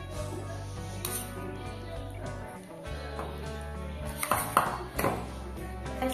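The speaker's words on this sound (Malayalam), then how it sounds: "ഉമ്മ പാത്രം മടക്കുന്നുണ്ട് കേട്ടോ" Metal dishes and pots clink and clatter in a home kitchen as they are stacked and handled, with ringing pings and scraping throughout, moderately close and without talk.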